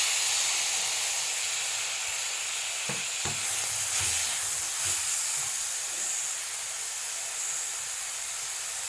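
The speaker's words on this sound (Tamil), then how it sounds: "இந்த தக்காளி கொஞ்சம் நல்லா வதங்கி வரட்டும்." Tomatoes and masala sautéing in a pan for egg rice, giving a steady close hiss and sizzle with a few brief stirring knocks partway through.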